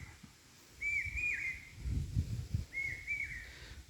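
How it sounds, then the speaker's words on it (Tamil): Birds whistle and chirp in short repeated phrases, fairly faint, over a low rumbling outdoor background. "பறவைகளுடைய சத்தம் கேட்குது."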